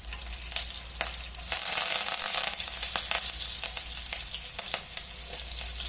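Cumin, green chillies and curry leaves sizzle steadily in hot oil in a frying pan for egg masala gravy, a dense continuous crackle with sharp pops and occasional stirring, close and fairly loud with no talking.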